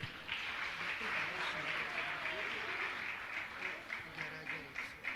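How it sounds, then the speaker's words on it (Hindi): Applause from an audience at a Jain religious gathering, moderately faint and steady for several seconds, with voices murmuring underneath. "आ जाइए, तालियां तो बजाइए आप लोग"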